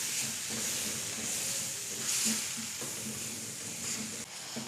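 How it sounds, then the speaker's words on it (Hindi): Spices sizzle and fry in a pan while being roasted for a melon seed (maghaz) dish, giving a steady, soft, continuous hiss with faint stirring scrapes and no talk. "तमाम स्पाइसेस डालने के बाद हमने इसको भुनाई कर लेनी है।"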